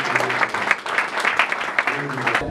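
A church congregation claps in worship, a dense run of quick, fairly loud hand claps, with voices mixed into the clapping.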